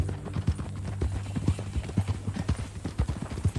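Horse hooves clip-clopping at a steady walking rhythm in Red Dead Redemption II, close and fairly loud, with a low background hum and no voices.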